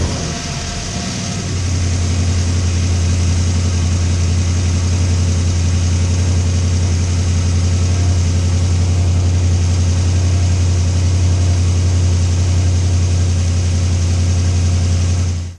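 A Chevrolet S10 truck engine, freshly swapped in, cranks and catches in the first second or two, then settles into a loud, steady, close idle that drones on unbroken with no voices.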